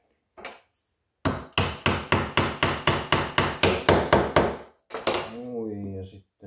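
About a dozen evenly spaced metallic hammer blows drive a bearing into place through a 13 mm long socket, a STIHL FS 460 angle gearbox bearing job, loud and close; a voice speaks briefly afterward.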